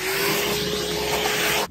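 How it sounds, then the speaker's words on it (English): A loud, steady vacuum roar with a constant whine, sucking up sawdust close by inside a 1996 Ford Econoline van before cutting off abruptly at the end. "Vacuum out the sawdust."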